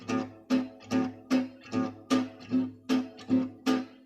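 Guitar accompaniment strummed in a regular pulse, the bass note alone on the first beat and all strings hit on the second, repeating evenly and close with no voices.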